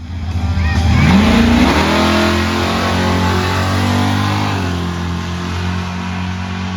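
A loud truck engine fitted with a Hulk manifold roars up in pitch as the truck accelerates hard, then holds a steady, droning high rev nearby.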